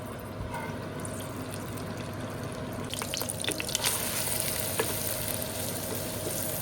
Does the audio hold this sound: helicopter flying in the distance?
no